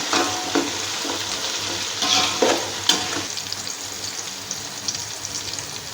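Onions frying in a pan for chicken pulao, a steady close sizzle broken by a few scraping stirs of a spoon through the pan.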